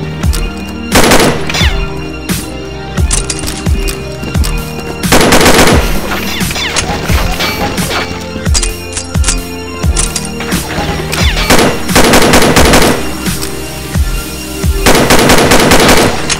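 Rapid automatic gunfire in a competitive tactical shooter match, loud bursts of close shots alternating with shorter volleys and brief gaps, with mechanical clicks between the bursts.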